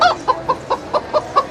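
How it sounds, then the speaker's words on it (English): Chickens cluck close by at a Buc-ee's, in a quick, regular run of about eight short clucks spaced evenly over a quiet background. "Damn chickens."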